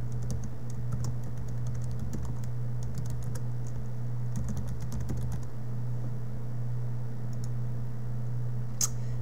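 Computer keyboard keys tapped in quick irregular bursts while an email address is entered, close and clear over a steady low electrical hum, with short pauses between runs of keystrokes.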